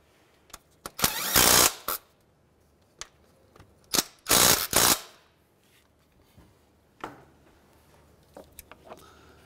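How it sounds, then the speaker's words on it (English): A ratchet tightens two 12 mm nuts onto the fuel rail of a 2003–2011 Honda Element, with close, sharp bursts of rapid clicking separated by short pauses and small taps. "We can put our two 12 millimeter nuts back on to our fuel rail and snug those up."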